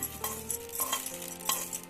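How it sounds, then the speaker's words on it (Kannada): A garlic tempering is stirred into a totapuri mango pickle, producing soft sizzling with a few distinct scraping and clinking stirs of a utensil, quiet and close. "ಇದನ್ನ ಈಗ ಒಂದು ಒಗ್ಗರಣೆ ಕೊಟ್ಟು ಮಿಕ್ಸ್ ಮಾಡೋಣ"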